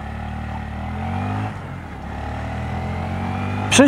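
A Honda MSX125 Grom motorcycle engine hums steadily, dips briefly, then climbs again as it picks up speed, with a sharp squeak at the very end.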